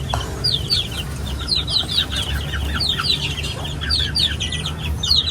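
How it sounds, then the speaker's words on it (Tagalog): Chickens clucking and chattering steadily nearby, many birds overlapping, with a low rumble of background noise throughout. "Yan po ang mga manok po di Bossing."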